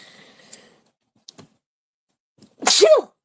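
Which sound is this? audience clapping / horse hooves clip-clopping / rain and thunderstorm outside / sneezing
sneezing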